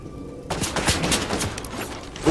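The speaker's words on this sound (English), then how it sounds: "Ooh, I'm getting shot at." Rapid gunfire in the video game Fortnite, a dense burst of overlapping shots fired from close range that runs without a break for about two seconds.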